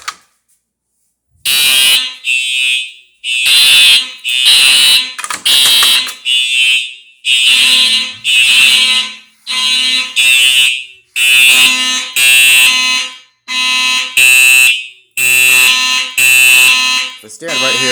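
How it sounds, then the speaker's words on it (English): Simplex 4903 and 9838 fire alarm horns in a home test system blare loud, close repeating pulses in a steady temporal pattern, the blasts separated by short gaps. "you can hear the 4903 under my feet and the 9838 up there."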